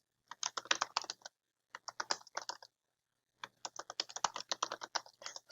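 SQL query being typed on a computer keyboard: fast, steady bursts of clicking keystrokes in three runs with short pauses between, close and clear, no talking.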